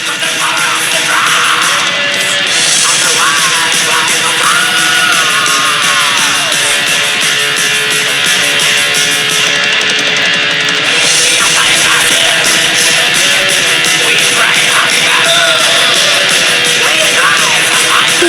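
A German heavy metal recording with screaming distorted guitars forms a loud, dense, unbroken wall of sound that plays without pause for the whole stretch.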